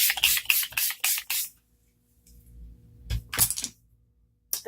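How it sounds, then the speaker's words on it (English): Rose water toner is spritzed from a spray bottle onto the face in two bursts, first about five quick hissing pumps and then a pair more after a pause, close and crisp. "Now I'm going to spray my face with my rose water"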